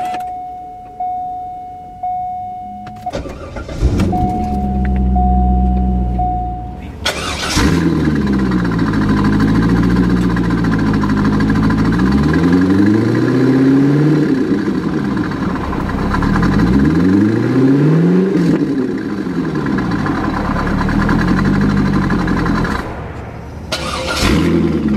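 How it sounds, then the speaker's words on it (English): 2000 Chevrolet C5 Corvette coupe, automatic, with Corsa exhaust, heard from inside with the windows closed: chimes and cranking, then the engine catches with a loud rev and settles into a deep, steady idle with swelling rumbles. "Let's check how it sounds when we start up the vehicle with closed windows."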